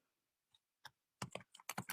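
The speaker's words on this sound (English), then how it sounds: "Let me type in Earth torus tube." Keys on a computer keyboard clatter in a few sparse taps and then a quicker burst of clicks while someone types a search, close and fairly quiet with no talk.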